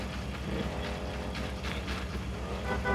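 Rough, uneven engine running from a car with a broken cylinder head in the Car Parking Multiplayer 2 game, a steady low drone with pulsing beats throughout, close and fairly loud with no talking.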